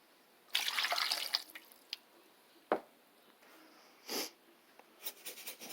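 Water splashes and pours briefly into a chicken roasting tray, followed by scattered faint drips and light clinks in a quiet room.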